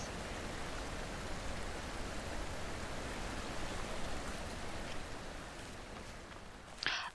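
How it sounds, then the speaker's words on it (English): Peaceful flowing water in the puzzle game The Witness, a steady soft rushing wash like a stream, even and fairly faint throughout, with a brief brighter splash near the end. "is this nice and peaceful water sounds for the people having heat waves?"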